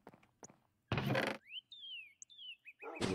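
Birds chirping in Minecraft, a few clear whistled and sliding tweets between soft thuds and a burst of rushing noise, fairly close and isolated against near silence.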